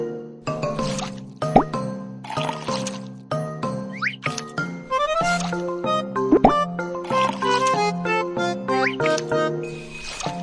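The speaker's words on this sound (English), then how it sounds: "Scoop it out into a bowl." Cartoon kitchen sound effects from a BabyBus cooking game as a dish is scooped into a bowl: a run of bright plops, drips, squishy splats and tinkly chimes over a steady musical backing, lively and close.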